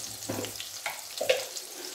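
Mustard seeds crackle and pop in hot oil for a tempering, with scattered sharp pops over a soft sizzle, fairly faint and close, no voices.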